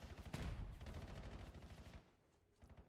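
Rapid automatic gunfire from a Call of Duty match during a CDL esports broadcast, dense bursts of shots for about two seconds, then quieter game sounds.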